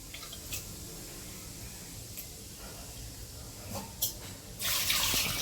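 A little water is poured into a pot of cleaned prawns on the stove. There is a soft watery trickle over low background noise, ending in a louder rushing splash.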